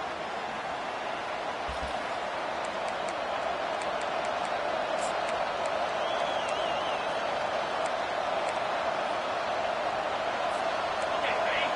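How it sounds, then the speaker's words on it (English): A packed football stadium crowd roars in an ear-splitting welcome for the visiting team, a constant loud wash of noise with faint voices beneath it. "This crowd bringing an ear-splitting welcome to their visitors."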